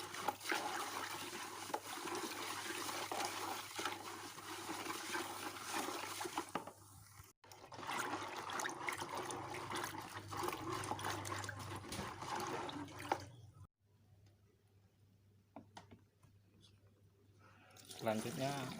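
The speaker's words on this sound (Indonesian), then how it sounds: "makanya kita tuangin pelan-pelan" AB Mix nutrient concentrate poured slowly from one container into another, a continuous liquid splashing and trickling that breaks off briefly, with soft talking mixed in.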